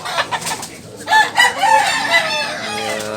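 A rooster crows loudly and close at a chicken market, with clucking fowl and other crowing mixed in and a voice briefly heard.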